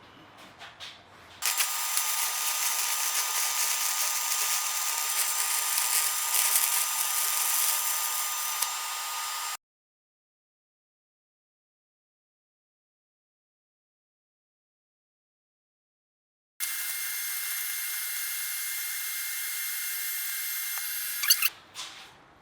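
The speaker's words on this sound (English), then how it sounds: "let's go ahead and get this thing welded out all the way around." Welding a steel tube support column, with two long stretches of loud, steady crackling hiss broken by a clear silent pause, close and with no talking.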